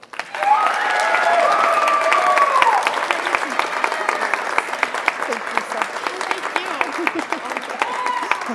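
Audience at an adult and family education commencement ceremony applauds an award recipient, a steady dense wash of clapping that holds for several seconds, with cheering voices and whoops rising over it near the start.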